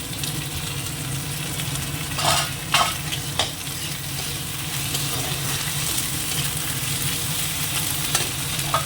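Onion fries in a pan in a home kitchen, a constant near sizzle under repeated scraping stirs, with a few crisp spoon clatters early on.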